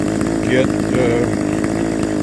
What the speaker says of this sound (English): Got that chainsaw running finally.